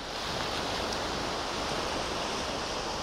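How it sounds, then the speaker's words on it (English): Waves washing on a rocky beach at Torre del Charco, Villajoyosa, below a steep cliff: a steady, fairly faint broadband rush of surf with no distinct breaks and no voices. "what we've got basically is a rocky beach"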